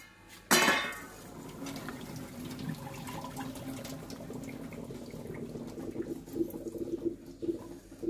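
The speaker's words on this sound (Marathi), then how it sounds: "हे एका चाळणीत ओतून घेऊया त्यातलं पाणी काढण्यासाठी" Cooked ridge gourd is poured into a sieve in a home kitchen to drain its water, starting with a sharp splash and then a steady trickle of runoff.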